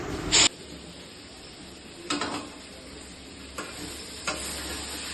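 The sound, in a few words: meat being stirred and fried in a pan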